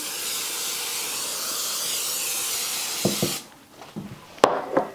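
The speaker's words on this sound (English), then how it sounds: "I'm going to spray my 9 by 13 pan" A steady hiss of aerosol cooking spray onto a 9 by 13 baking pan runs for several seconds, then stops, followed by a few light clicks and taps of the pan.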